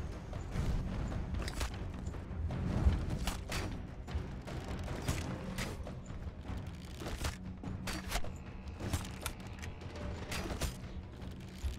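Crossbow shots and explosions from Arcania: Gothic 4 fire in a busy run of sharp cracks and booms over a steady low rumble of game sound, with no talking.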